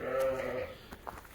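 A female sheep bleats once, close and fairly loud, with a long wavering cry that gives way to quiet farmyard noise, in a pen of young ewes offered for sale in Kara-Balta.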